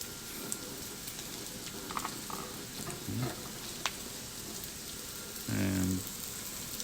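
Garlic frying in a pan until it turns slightly brown, a steady close sizzle with a few stirring scrapes and clinks along the way.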